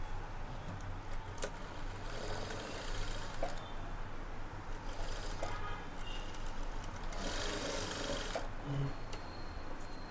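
A sewing machine stitches a blouse side seam at half an inch, a steady close whir with faint mechanical ticks running for about ten seconds, with no talk over it.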